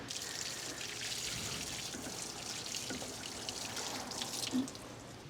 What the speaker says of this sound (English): I'm just gonna water all this down